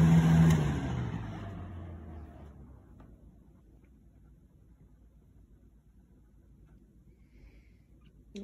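A 1997 Lasko box fan spinning down from high speed, its whirring hum fading steadily over several seconds into near silence, close and alone.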